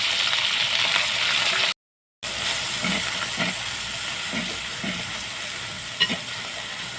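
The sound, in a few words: grated onion frying in oil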